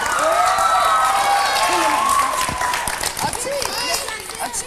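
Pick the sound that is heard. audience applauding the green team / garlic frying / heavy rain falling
audience applauding the green team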